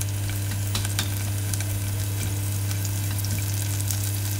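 Clams stir-fried with scallion fat sizzling steadily in a pan, a dense, continuous crackling hiss with scattered pops over a low hum, close and alone.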